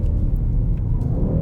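Mercedes-AMG E63 S V8 sedan, 612 hp, accelerating: a loud, steady deep engine rumble heard from inside the car, continuous and close with no talk.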